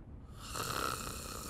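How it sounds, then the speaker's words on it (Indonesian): A sleeping person snores in a horror film scene, a single long, rough, rasping snore that swells and fades, close and steady with no talk over it. "Masih aja ngorok."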